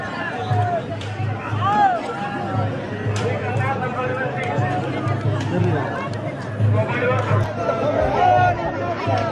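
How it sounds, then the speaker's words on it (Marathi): A dense crowd of pilgrims packs the Jejuri temple, a constant murmur of many overlapping voices with shouts and calls rising out of the babble, close and all around. "क्राऊड आहे"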